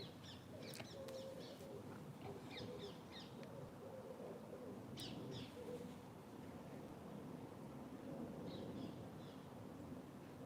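Birds chirp in short bursts over a steady low rumble of distant jet aircraft near Heathrow Airport, heard outside a window, with no talking.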